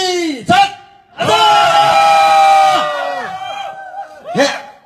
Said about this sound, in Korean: 구호 한번 외치고 함성 한번 지르고 마치도록 하겠습니다